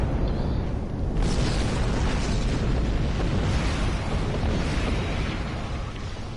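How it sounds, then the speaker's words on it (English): Ship cannons fire and explode in the space combat game Star Trek Online, a dense, loud, continuous roar of blasts and booms that barely lets up before easing slightly at the end. "Yep, my new cannons are helping. They are quite powerful."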